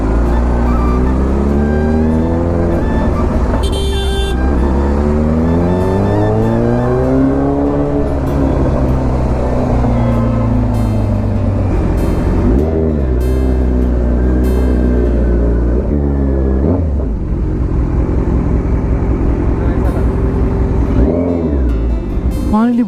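A Kawasaki Z900 motorcycle exhaust, loud and continuous, rising and falling through repeated revs with sweeping pitch over steady engine rumble.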